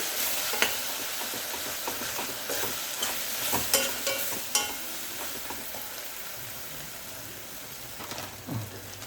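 Chili powder and turmeric being stirred into vegetables for a dum biryani, a spoon scraping and clinking in the pot over a soft background sizzle, with a few sharper knocks along the way.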